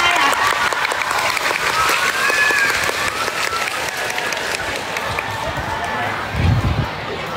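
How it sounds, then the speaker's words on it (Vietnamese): A crowd of students at a school applauds loudly and continuously as a guest is welcomed, with excited voices and shouts mixed into the clapping and a thump near the end. "Xin dành cho chị Nam Em một tràng pháo tay ạ."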